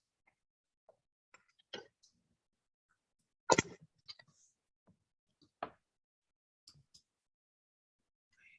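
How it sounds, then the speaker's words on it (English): A computer mouse clicks through a chat window during an online public meeting, giving a few sparse, quiet, isolated clicks with near silence between them. "I'm just clicking through my chat."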